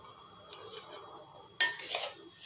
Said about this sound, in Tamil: இந்த தண்ணியில் அந்த சேமியாவை ஆட் பண்ணிடலாம்.